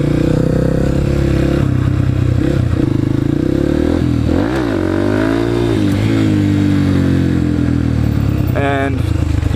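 A dirt bike engine idles loudly nearby and is revved in rising and falling surges, with clattering mechanical noise throughout.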